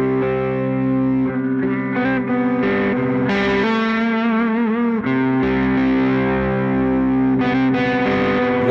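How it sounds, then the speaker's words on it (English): Electric guitar tuned to D standard, played through a clean tone with slight gain, with strummed chords and sliding notes ringing continuously at a strong, even level and no voices over it. "So this is how the guitar sounds like clean."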